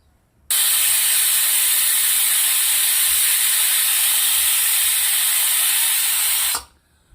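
A pressure cooker vents a loud, sustained hiss of steam lasting about six seconds, starting abruptly and cutting off, while cooking mung dal with fenugreek leaves, heard alone and close.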